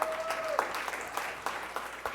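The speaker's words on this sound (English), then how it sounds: "So give yourselves a round of applause." School district audience applauding at a task force meeting, a crowded wash of clapping at moderate level, with a brief tone at the start and scattered louder claps.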